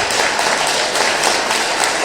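A church congregation applauds the Lord during a worship service, a loud dense wash of many hands clapping that holds steady and continuous throughout.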